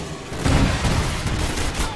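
Missile strike in Call of Duty Modern Warfare landing as a burst of heavy, rumbling explosive booms, dense and loud for about two seconds with no voices.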